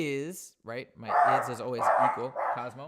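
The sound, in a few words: dog barking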